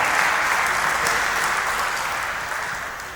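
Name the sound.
audience applause for the event chairman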